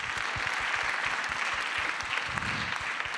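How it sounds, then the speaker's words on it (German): Audience applause for a founder at a 2018 entrepreneurship summit, dense steady clapping from a crowd throughout, fairly loud and even with no voices over it. "einen Applaus für Jonas"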